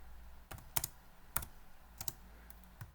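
Code being typed on a computer keyboard: a handful of scattered, fairly quiet key clicks arriving in irregular bursts, with no talking.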